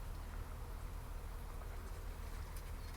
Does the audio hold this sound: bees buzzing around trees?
yes